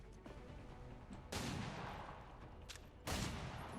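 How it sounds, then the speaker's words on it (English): Two sharp auto pistol shots from the video game XCOM 2 crack about two seconds apart, each with a short, bright burst over a low game background hum. "Let's go for the second pistol shot on him."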